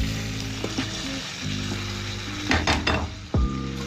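Cabbage and boiled macaroni stirred in a hot cooking pan with peas and chicken, steady sizzling frying under intermittent scraping and clinking of a utensil against the pan, close and moderately loud.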